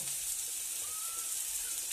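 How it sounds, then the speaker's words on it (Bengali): Fish sizzles and crackles steadily in oil in a pan with salt, chilli and turmeric powder, a soft continuous hiss with no voices. "ভালো করে ভাজা হচ্ছে"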